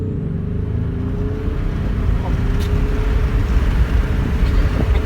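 An electric Tesla playing a simulated Ferrari engine sound with reverse gear engaged, a steady low engine drone whose tone creeps slowly upward, close and fairly loud, with people talking over it.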